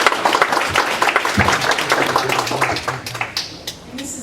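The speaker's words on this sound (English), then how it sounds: "Round of applause." An audience at a town hall meeting on constitutional amendments applauds veterans in the room, a burst of dense clapping that thins and fades over a few seconds, with some voices mixed in.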